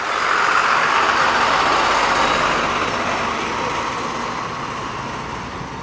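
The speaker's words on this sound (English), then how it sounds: "You're going to see that tow truck bump over it in just a second." A tow truck drives along West Main East in December, its broad roadway rumble and hiss loud and steady before easing off slightly as it passes, heard alone without talk.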